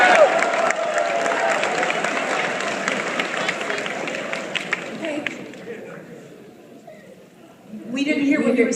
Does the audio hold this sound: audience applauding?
yes